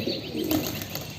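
Young black pigeon just caught by hand, giving soft coos and faint chirps with a brief flutter of wings, close and fairly quiet, no talking.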